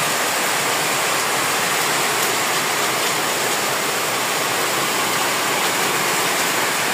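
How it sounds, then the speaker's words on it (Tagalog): Heavy rain pours steadily during a typhoon, with flood water around a small hut and trees falling nearby; a dense, continuous roar of rushing water stays loud and even throughout, with no voices. "Konti lang, malakas lang ulan"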